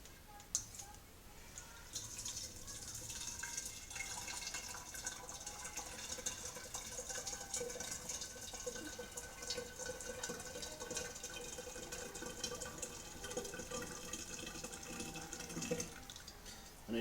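Hot water runs into a container holding a brewery cleaner (OxiClean or sodium percarbonate) for about fifteen seconds, a faint, steady hissing trickle with small clicks and knocks throughout.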